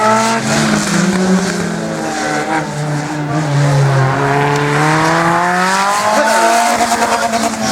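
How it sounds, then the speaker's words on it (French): A Dallara F399 single-seater racing car runs a slalom course, its engine note loud and close, rising and falling through repeated gear shifts and throttle changes, with brief tyre squeal as it works through the gates. "Didier Ravard en piste, Didier Ravard, sociétaire de la zone Atlantique, et David Degorin, lui, qui vient des Deux-Sèvres avec cette Dallara F399."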